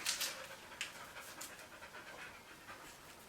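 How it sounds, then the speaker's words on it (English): Dogs pant close by in quick, breathy bursts that come in uneven clusters and fade slightly, with no talking over them. "Hopefully these dogs won't distract us too much."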